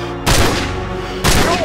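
In Call of Duty 4: Modern Warfare, two loud close gunshot bursts ring out about a second apart, each with a heavy rumbling tail.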